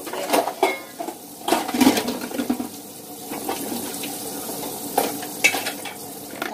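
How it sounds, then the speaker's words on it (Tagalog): Dishes being washed by hand under running water, with plates clinking and clattering in irregular bursts over the steady splash of the tap, fairly close and with no talking. "Pinipilit ko lang maghugas ng plato kasi wala naman kami katulong dito"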